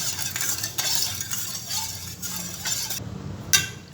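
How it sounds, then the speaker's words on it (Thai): A spoon scrapes and swirls through coconut milk with salt and sugar in a pot over medium heat for mango sticky rice, steady close stirring with occasional metallic clinks against the pot. "คนให้น้ำกะทิของเรานะครับ ละลายน้ำตาลละลายเข้าด้วยกัน"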